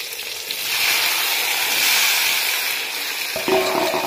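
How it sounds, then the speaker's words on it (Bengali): Eggplant slices fry in a pan with a loud, steady close sizzle, joined near the end by a brief clattering knock; nobody speaks. "ওই দেখো বেগুন ভাজা হচ্ছে"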